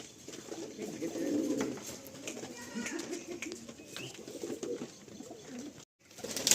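A male and female pair of pigeons coo softly, with low, rolling calls repeating close by over a quiet background. A brief silent gap comes near the end, and then the cooing returns.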